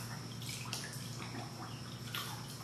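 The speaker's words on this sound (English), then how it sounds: "And just make sure they're rinsed real good." Brass cartridge casings from black powder loads being rinsed and swished in clean water, with a close, continuous sloshing and splashing broken by brief brighter splashes.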